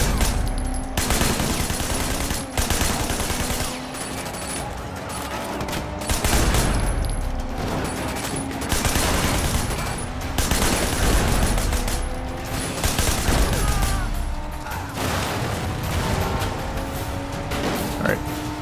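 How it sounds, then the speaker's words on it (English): Sustained rapid gunfire in the video game Sleeping Dogs, with loud repeated bursts and shots layered over game music and effects, continuing almost without pause. "I'll just keep fucking shooting then"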